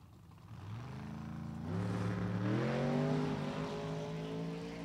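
A distant super stock drag race car screams down the strip at an NHRA event, its engine note climbing steadily through the gears as it holds a loud, sustained roar.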